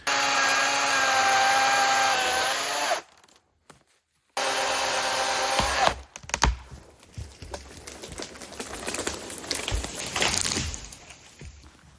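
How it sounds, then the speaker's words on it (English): Electric chainsaw cutting a log at a winter off-grid homestead, a steady loud motor whine for a few seconds, a brief cutoff, then renewed running followed by rough, crackling rasps of the cut. "I can use my electric chainsaw to cut in the opposite direction."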